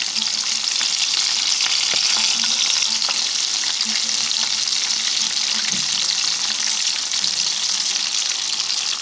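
Calamari pieces fry in hot oil for crispy restaurant-style fried squid, giving a steady, close, unbroken sizzle and crackle that holds at an even level throughout, with no voices.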